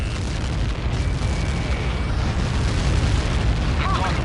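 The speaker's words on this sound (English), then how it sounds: "Missile. Impact now." A missile strike lands in a PS4 combat game, a loud, dense rumbling blast that fills the whole clip with a sustained roar and no distinct separate booms.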